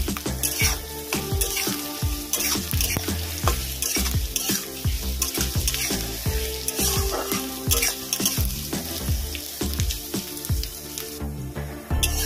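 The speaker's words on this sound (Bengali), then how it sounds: "পেঁয়াজটাকে ভালো করে ভেজে নেব।" Chopped onions fry in a hot pan for a chicken dish, a dense, continuous sizzle broken by frequent scraping stirs that come in a quick, uneven rhythm, close and loud throughout.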